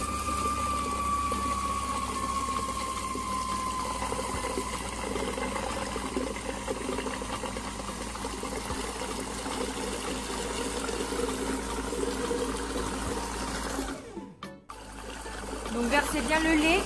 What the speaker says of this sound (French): je vais progressivement augmenter ma vitesse et je vais tout en même temps verser mon lait tiède et ma cuillère à soupe de fleurs d'oranger